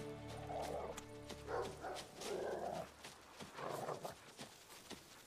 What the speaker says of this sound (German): Er hat ihn. Husa hat seine Fährte